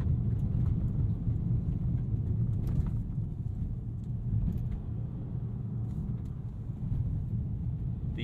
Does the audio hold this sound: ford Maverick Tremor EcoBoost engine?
yes